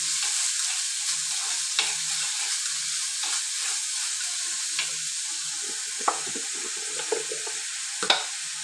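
Shallots, green chillies and tomatoes sautéing in a pan for a pink fish curry, a steady sizzle broken by intermittent stirring scrapes and a few sharper clinks near the end, no voices.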